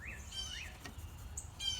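Faint birds chirp outdoors, a few short rising tweets and trills scattered over a quiet background.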